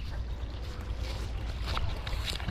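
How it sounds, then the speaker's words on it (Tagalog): A low, steady rumble of a large engine idling slowly runs throughout, heavy in the bass, with wind and water noise over it; no talking. "bagya lang umaandar-andar yung makina"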